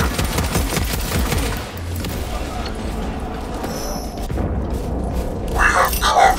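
A launcher fires amid battle in Warhammer Space Marine 2, booming shots over dense rolling gunfire and low rumble, with a sharper burst of cracks near the end; a voice speaks over the din.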